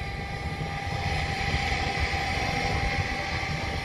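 Large RC model helicopter flying in gusty wind, a steady droning rotor and engine hum with wind noise, continuous and moderately distant, no talking.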